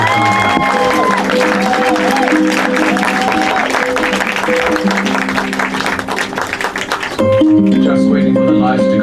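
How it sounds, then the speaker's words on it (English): An audience at a London Bengali film festival Q&A applauds a filmmaker after a screening, a moderate crowd clapping under sustained musical tones and some talk, fading out near the end. "Can we all have one more round of applause for Shankha"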